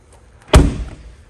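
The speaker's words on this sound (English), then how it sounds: "when you close this rear load door" The rear load door of a 2023 MK Coach Lincoln Nautilus hearse swings shut with one loud, close, solid thump, followed by a short fading rattle and no voices.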